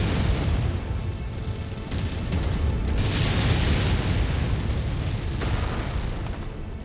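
Missiles striking a target in MechWarrior 5, a dense rolling wall of heavy booms and rumbling blasts that sustains loudly throughout with no letup.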